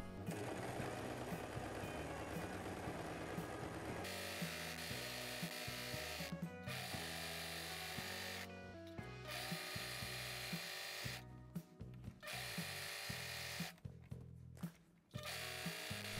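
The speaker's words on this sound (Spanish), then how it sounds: "voy a coser los dos interiores" A domestic sewing machine stitches the seams of culotte trousers, running as a steady continuous mechanical hum with brief pauses and restarts, close and clear with no speech.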